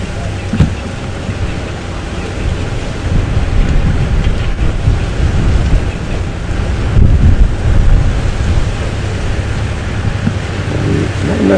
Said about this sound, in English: Notice the leaves and bushes blowing in the wind.